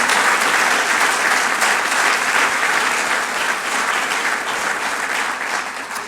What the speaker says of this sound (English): I'd love to have a round of applause for all the athletes this year and all their coaches and leaders